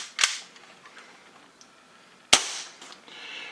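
Two sharp cracks of an airsoft gun fitted with a UAC Hi-Flow Valve sound about two seconds apart, each a close, sudden snap that fades quickly into a quiet room.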